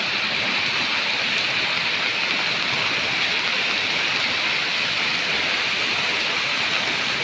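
Floodwater pours over a culvert after continuous rain, a loud, unbroken rushing roar with no pauses and no voices.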